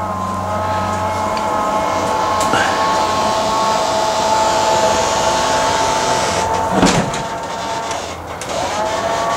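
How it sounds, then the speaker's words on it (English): An electric motor lifts the engine hatch on a boat, a steady mechanical whine and hum running throughout, with a few clunks and a short dip near the end. "he's got electric hatch"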